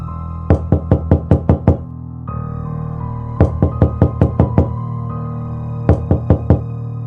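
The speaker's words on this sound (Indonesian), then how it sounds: "Suara ketukan pintu terdengar dari luar." Three sharp bursts of knocking on a door, each a quick run of six or seven evenly spaced raps, loud and near, with a rainy night's quiet room hum between them.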